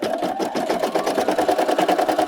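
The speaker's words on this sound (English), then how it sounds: "Now I was going to do the embroidery stitch." A Brother embroidery machine stitching an applique underlay, with a steady, rapid mechanical chatter of needle strokes and a constant motor whine, loud and close, with no talking.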